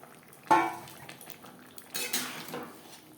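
Fried rohu fish is stirred into a gravy with pumpkin stalks in a pan, giving a sharp utensil clank against the pan followed by softer scraping and stirring sounds, close and quiet.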